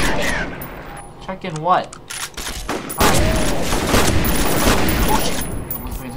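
Gunfire in the video game F.E.A.R. crackles in quick bursts alongside other game effects, while a player talks over the action.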